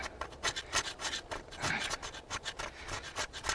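An old gasket is scraped off a Jeep Cherokee XJ thermostat housing by hand, giving a run of quick, close, raspy strokes that repeat steadily with no talking.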